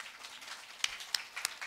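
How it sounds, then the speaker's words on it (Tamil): Audience at a village drama performance giving a short, scattered round of applause for a performer named Murugan, faint and distant, with a few sharper claps standing out. "முருகனுக்கு ஒரு கைதட்டு கொடுக்கலாம்"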